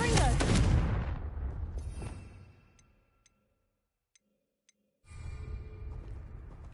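A Confringo blast spell cast in the video game Hogwarts Legacy hits as a loud, explosive burst that rumbles and fades into near silence, with a few faint ticks, before another loud blast-like surge starts.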